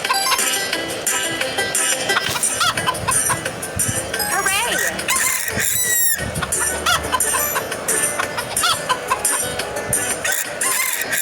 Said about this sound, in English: Our hens have scattered all over the garden.